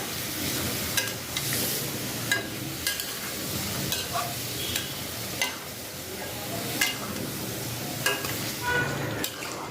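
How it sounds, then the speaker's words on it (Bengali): Spices being stirred into mutton in a hot pan, with steady sizzling and frying under repeated scraping and stirring strokes, close and continuous, with no talking. "এখন সব মশলা একসাথে মিশিয়ে নেব"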